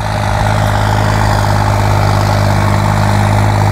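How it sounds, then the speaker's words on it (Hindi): A Swaraj 855 or Sonalika 750 turbo tractor engine runs loud and close, holding a steady, heavy, unbroken drone at idle. "ट्रैक्टर बढ़िया चल रहा है भाई"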